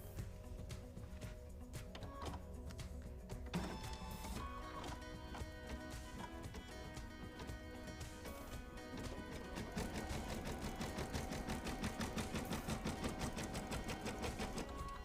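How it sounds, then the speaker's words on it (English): An embroidery machine stitches out a placement stitch in black thread, running steadily and fairly loud on its own, its rhythmic needle clatter growing denser and louder in the second half. "my machine is going to do is stitch out a placement stitch"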